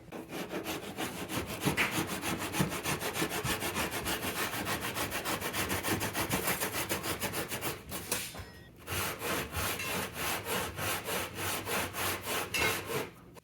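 A thin, flexible pole saw cuts steadily through warped wood in quick, regular back-and-forth strokes, close and loud, with a brief pause before the sawing resumes.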